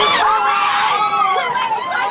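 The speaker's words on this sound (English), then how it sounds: "They're cheering the race ruling in college admissions there." An outdoor crowd cheers and shouts after a Supreme Court ruling on race in college admissions, a steady wash of excited voices with whoops and screams rising over the din.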